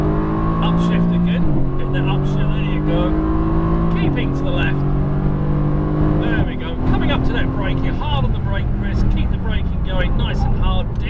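Mercedes-Benz AMG GT S on a race track, loud steady engine drone heard from inside, stepping down in pitch at several upshifts, with a person talking over it throughout.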